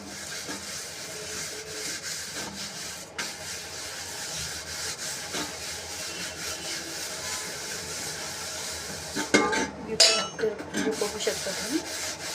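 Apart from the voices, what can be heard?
scrubbing a copper/brass pot by hand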